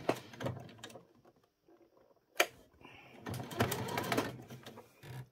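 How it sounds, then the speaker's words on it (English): Sewing machine top stitching the collar of a doll's pajamas, with a soft mechanical whir in short bursts and pauses, the stitching running steadily near the end. "what we're going to do is top stitch that down"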